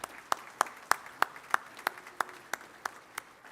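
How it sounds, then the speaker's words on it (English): A few people at a commencement ceremony clap in a slow, steady rhythm, about ten distinct claps spaced roughly a third of a second apart, fading slightly toward the end, no voices. "Let's give them a big round of applause."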